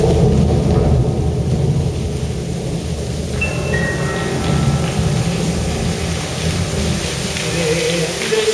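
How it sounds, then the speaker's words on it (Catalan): A staged storm effect in a children's cantata performed in a concert hall: heavy, dense rain roars steadily with deep rumbling thunder underneath, loud and continuous throughout. "Comença a ploure cada cop més. Plou i plou, i plou més encara."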